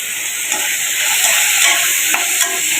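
Shrimp and turmeric frying lightly in a pan give a steady, close sizzle with soft stirring scrapes throughout, and nobody talks.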